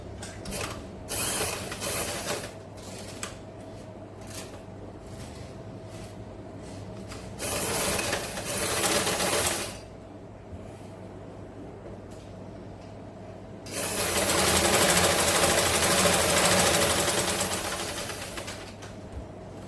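A sewing machine stitches a folded silk band on a traditional pattu pavada skirt, running in three separate bursts of close mechanical whirring and rattling, the last the longest, with quiet pauses between and no talk.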